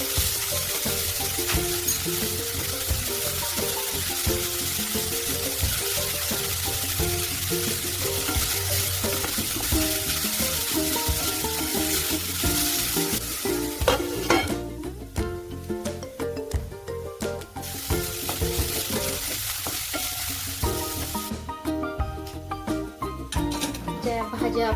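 Vegetables for soup sizzle and crackle loudly in a hot pan while being stirred, with scraping and clattering against the pan, and quiet talk in places.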